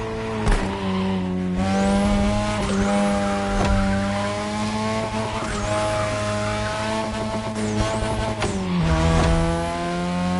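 Third-generation 2002 Mazda RX-7 with a rotary engine racing in a video game, a loud sustained high-revving engine tone that shifts pitch through gear changes, with repeated tire squeals over the top.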